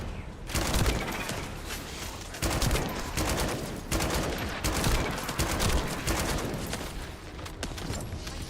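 Burst rifle fire in The First Descendant video game, sustained loud volleys of rapid shots repeating in bursts across the whole stretch, dense and close with only brief lulls between.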